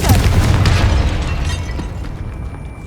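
A Confringo fire spell blasts in Hogwarts Legacy, a loud, close, heavy boom that fades out over a couple of seconds.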